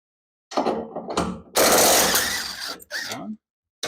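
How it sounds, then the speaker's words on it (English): Bolts are spun off a hot rod Maverick in a garage, heard as several short bursts of mechanical whirring and ratcheting separated by brief pauses, close and fairly loud. "I can probably just spin those bolts off too."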